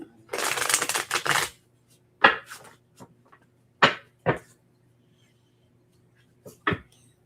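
Cards riffle in a rapid fluttering burst, followed by several softer taps and slides as the deck is squared and shuffled again.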